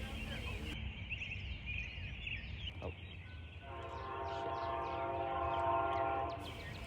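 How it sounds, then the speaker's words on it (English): An Amtrak train 40 led by an ALC-42 in Phase 7 paint with a trailing P-42 sounds its horn at a distance, a steady multi-tone blast rising over the rumble of the approaching train, with birds faintly in the background. "right after that, we would shortly hear his horn."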